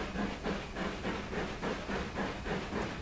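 A steam locomotive in Train Sim World 3 on the Peak Forest route, with the blower fully open, hisses loudly and steadily, pulsing in an even chuffing rhythm with no voices.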